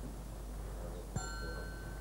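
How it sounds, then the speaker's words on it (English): Soft, faint tinkling bell tone sounds once near the middle, with a brief bright strike and a thin ringing tail that fades over about a second against quiet background hiss. "Tinkling sounds."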